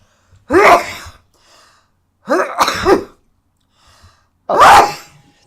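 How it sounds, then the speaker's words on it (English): Three loud, explosive sneezes spaced a couple of seconds apart, each one sharp and close, with faint breathing in the gaps. "I have loud sneezes."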